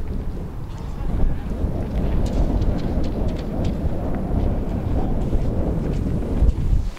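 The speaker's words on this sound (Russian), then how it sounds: "тут морозный ветер сильный" Strong, frosty winter wind in Kazan buffets the microphone with a steady, rough roar and gusty low rumbling throughout, no other sounds standing out.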